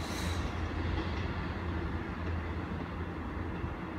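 A CrossCountry HST train pulling into Newton Abbot station rumbles in with a low, steady engine drone and rolling rail noise, fairly loud and continuous, with no voices.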